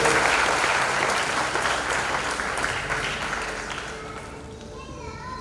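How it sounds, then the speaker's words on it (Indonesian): A crowd applauds steadily during a church Christmas service, a dense wash of clapping that slowly fades toward the end. "Berikan tepuk tangan buat Tuhan."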